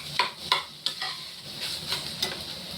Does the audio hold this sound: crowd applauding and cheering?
no